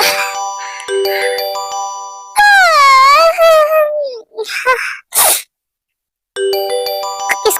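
A mobile phone ringtone chimes in short melodic bursts at the start and end, separated by a sneeze-like vocal outburst and brief noises, loud and close with a moment of silence in between.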